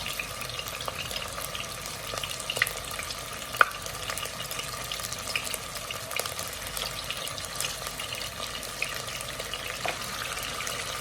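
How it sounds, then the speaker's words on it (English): Beef stir-fries in an uncrowded pan, cooked in batches, with a soft, continuous sizzle and scattered crisp pops and crackles that stay fairly quiet and close throughout. "You don't want to overcrowd this pan, or else the beef is going to boil, because you just want to have a fry on the beef"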